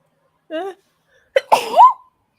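A single sneeze, sharp burst followed by a drawn-out vocal tail, with a brief voiced sound just before it.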